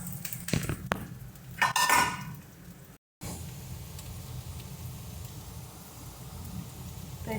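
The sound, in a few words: onions added to hot pan, frying and stirring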